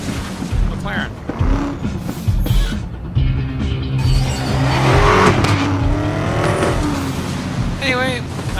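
A McLaren in the racing game Need for Speed Most Wanted, its engine droning steadily and rising in pitch as it revs, fairly loud throughout with a person talking over it.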